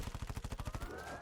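Rapid automatic gunfire from the horror video game Dead of the Night, a fast burst of about a dozen evenly spaced shots that stops abruptly, fairly loud with no talk over it.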